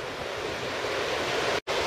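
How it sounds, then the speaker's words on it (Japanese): At a windsurfing spot in Ibaraki, ocean surf rushes in a steady broadband roar with wind buffeting the microphone. The sound drops out for a brief instant near the end. "お、あとは波だ。"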